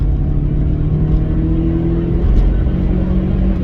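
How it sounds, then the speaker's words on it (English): Rover 25 K-series petrol engine revving through its range inside the car, a loud, close, steady low drone with a rising tone, heard alone without talk. "as you rev it through the range"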